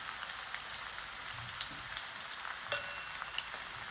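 Garlic fries in a pan with a soft, steady sizzle and crackle, close but quiet, broken by one sharper pop partway through, with no voices.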